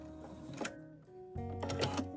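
A sewing machine stitches binding onto the corner of a quilt, running in two short, quiet bursts with a pause between them as the work is pivoted.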